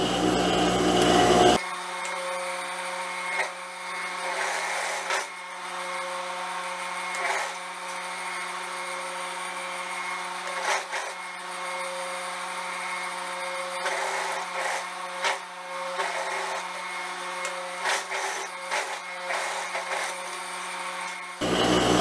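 A sewing machine runs almost continuously while stitching a skirt pocket seam, a steady whirring mechanical drone with small shifts in pace, stopping briefly at the start and end.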